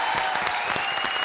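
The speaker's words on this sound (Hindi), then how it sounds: "लेडीज एंड जेंटलमैन, जोरदार तालियां।" A studio audience at a televised comedy show applauds loudly and continuously, a dense burst of clapping filling the room, with a host's voice faintly over it.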